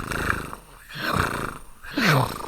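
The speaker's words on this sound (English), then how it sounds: "That's my snoring man." A man snores loudly in slow, rumbling breaths, three heavy pulses in a row with a gravelly, throaty rasp, close and alone with no talk.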